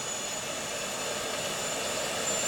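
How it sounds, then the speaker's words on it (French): An airplane takes off in the video game Just Cause 2, a steady, moderately loud engine roar with a thin high whine that holds evenly throughout, alone and without talk. "l'avion est complètement niqué, mais il va réussir à décoller"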